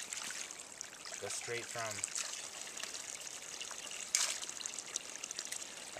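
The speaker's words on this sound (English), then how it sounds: "it's just the pure water coming out" Pure spring water runs steadily from a newly piped wild spring, a continuous close trickle and splash heard under someone talking, with a brief louder clatter partway through.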